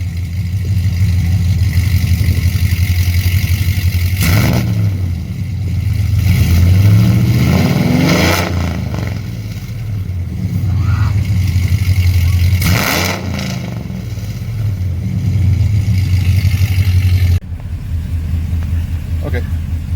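A GM 1500 pickup with a 6.2 V8, long tube headers and a full exhaust idles with a deep loud rumble outside the vehicle, then revs sharply three times before settling back to idle.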